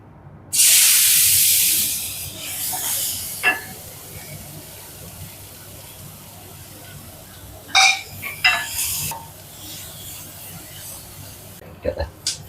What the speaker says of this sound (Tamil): நல்லா வெங்காயம் வதங்கட்டும், அப்போதான் வாசமாக இருக்கும்